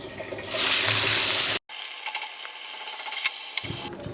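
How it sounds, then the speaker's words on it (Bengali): Fish frying in hot oil in a home kitchen: a loud, close, broadband sizzling hiss that cuts off abruptly, then resumes as a steadier, quieter crackle with scattered pops. "মাছগুলো ভেজে নেব এখন।"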